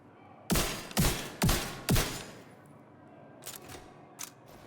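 Four heavy shotgun blasts from the Barrel Stuffer in the shooter game Division 2 land in quick, even succession, followed by a few fainter, sharper shots afterward; no talking.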